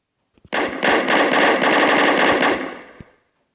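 A PP-Bizon submachine gun in a Minecraft PE weapons mod fires one loud, sustained automatic burst of about two seconds, with a couple of single shots just before and one just after.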